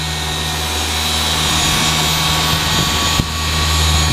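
Rupes Bigfoot dual-action polisher running steadily on a Scion FR-S's car paint, a constant loud motor whine and hum with a slight change near the end.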